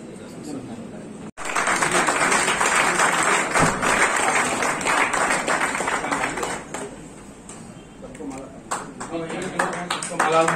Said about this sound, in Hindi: तालियां बजती रहनी चाहिए साथियों।